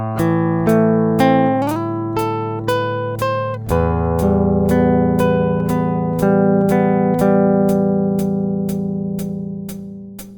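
Left-handed fingerstyle acoustic guitar playing a short phrase, plucked notes ringing into sustained chords, with soft regular clicks ticking steadily underneath, clear and close with no talking.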